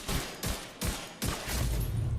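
A rifle fires at a high rate in The Division 2, rapid bursts of gunfire in several short volleys separated by brief gaps, loud and close.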